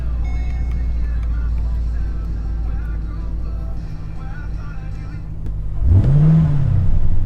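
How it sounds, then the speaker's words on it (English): An engine revs hard in a 9C1 government surplus car. A steady idle hum runs under a voice, then near the end the engine sweeps sharply up and back down with a loud rev. "Likes to rev, that's for sure."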